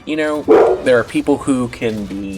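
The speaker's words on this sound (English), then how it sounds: "Once again, I apologize for my dog." A pet dog barks and yips a few times in the background while a person talks steadily over it at close range.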